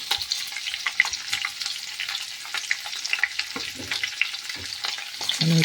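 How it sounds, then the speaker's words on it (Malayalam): Ingredients stirred and sautéed in coconut oil for a mushroom curry, a steady light sizzle with scattered scraping clicks of the spoon, close and fairly soft throughout, a louder clatter at the very end. "ഓരോന്നായി ഇട്ടത് ബ്രൗൺ കളറാവണ വരെ ഇളക്കി വാട്ടും."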